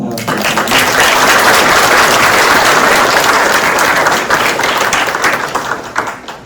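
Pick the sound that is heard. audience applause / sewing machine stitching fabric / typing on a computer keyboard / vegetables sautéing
audience applause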